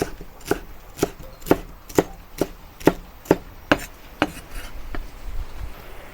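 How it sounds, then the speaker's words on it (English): Knife chopping fresh coriander leaves into short sections on a board: about nine crisp, evenly spaced chops that slow and fade toward the end, close and alone. "coriander leaves, cut into short sections"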